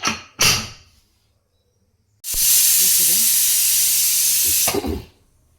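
A pressure cooker whistle releasing steam in a home kitchen: a couple of brief knocks, a pause, then a loud, steady hiss of steam lasting about two and a half seconds before cutting off.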